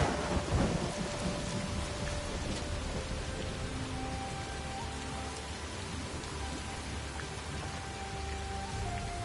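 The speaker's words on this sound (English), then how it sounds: "Hey, it's raining." Video game rainstorm with steady rain pattering on surfaces and low rolling thunder, a continuous even wash of sound throughout, moderately quiet with no voices.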